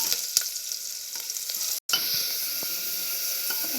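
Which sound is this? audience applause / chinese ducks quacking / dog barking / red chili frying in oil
red chili frying in oil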